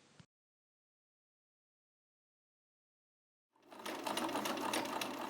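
A sewing machine stitches the seam of a bag handle, starting after a long silence and then running steadily with a fast, even mechanical whir close up.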